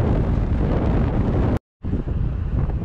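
Strong wind roaring across a microphone while cycling through Grimbaud forest in light rain, loud and continuous, cut by a brief dropout before resuming just as heavily.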